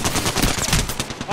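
Rapid automatic gunfire in the video game Apex Legends, a dense, loud, continuous burst of closely spaced shots running for just over a second.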